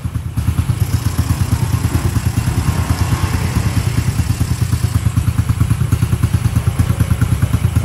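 A large 54 cc engine runs steadily near at hand while its exhaust is adjusted, throbbing in a fast, even low pulse with some metallic clatter and no voices.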